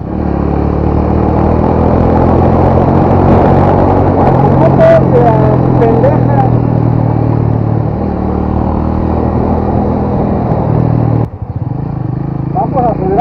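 A 200–250 cc motorcycle with about 8,240 km on it, revved hard at full throttle, giving a loud, sustained engine roar close up that drops briefly near the end before picking back up.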